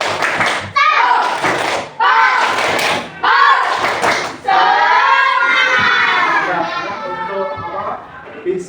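Indonesian school class chanting together in loud, choppy bursts for the 'tepuk semangat' spirit clap, with sharp hand claps and thumps between the children's voices, then sustained group chanting toward the end.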